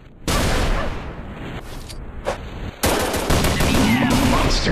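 Rapid gunfire in the Android shooter Commando Gun Strike, loud close bursts of automatic shots kicking in sharply after a brief quiet, continuing in dense volleys with short gaps and a heavier barrage near the end.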